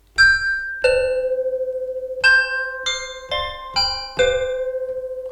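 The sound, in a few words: modular synth resonator playing random chord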